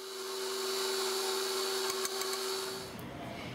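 An electric stand mixer whirs steadily while creaming salted butter, cream cheese and vanilla for banana-honey-nut cupcakes, a constant motor hum with small knocks before it winds down near the end.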